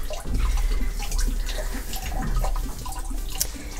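Water rushes steadily into a washing machine drum as it fills for fabric dyeing, a continuous close hiss and splash with no talking.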